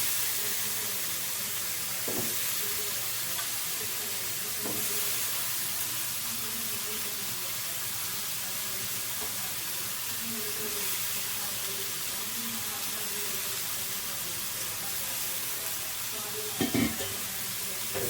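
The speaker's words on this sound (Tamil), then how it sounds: "நல்லா கொஞ்சம் காளான் வதங்கிட்டோம் நல்லா வதங்கட்டும்" Mushrooms sauté in a pan with a steady soft sizzle and hiss running throughout, broken by a few faint clinks of stirring, close and moderately quiet with no talk.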